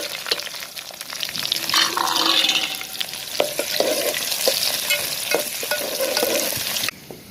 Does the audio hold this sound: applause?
no